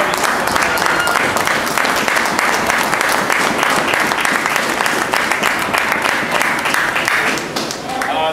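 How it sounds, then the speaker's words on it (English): A crowd at a Guardian Angels anniversary event gives a sustained round of applause for the Junior Guardian Angels, dense and loud clapping throughout that fades slightly near the end. "let's give a nice round of applause for the juniors"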